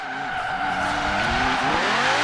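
Sustained tire squeal from a 2008 BMW M3 drifting around a roundabout in Forza Horizon 3, a loud continuous screech layered over engine drone, steady and close throughout.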